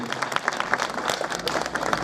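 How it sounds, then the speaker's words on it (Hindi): A crowd at a village panchayat gathering breaks into applause, a dense patter of many hands clapping for a couple of seconds. "इसके लिए आप सबकी जोरदार तालियां महोदय के लिए।"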